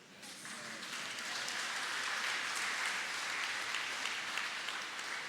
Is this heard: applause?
yes